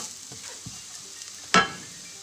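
Onions in a frying pan give off a faint sizzle broken by a few soft scrapes, then one sharp, louder scrape or clatter as they are lifted out.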